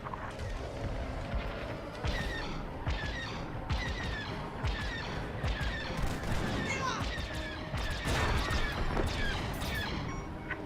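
Laser covering fire in the Star Wars: Squadrons space combat game: rapid bursts of blaster shots and crackling impacts repeat in quick succession over a dense, rumbling cockpit-and-battle backdrop.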